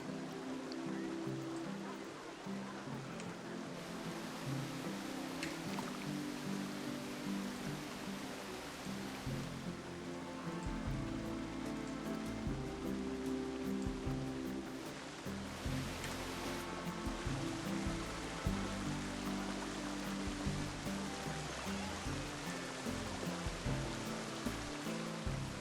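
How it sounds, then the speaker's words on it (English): A flowing waterfall in the video game Planet Coaster 2, a continuous broad rush of water with a constant splashing texture, steady and moderately loud throughout, with a layered ambient music bed underneath. "Love how the waterfall stays."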